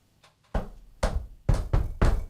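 A bedpost knocks against a wall in five heavy, evenly spaced thumps, loud and close, after a couple of faint taps at the start.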